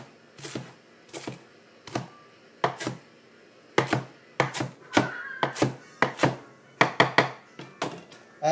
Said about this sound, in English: Okay, so now let's slice our cilantro.